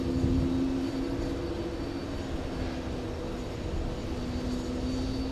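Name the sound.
Emirates airliner arriving to park at JFK gate 7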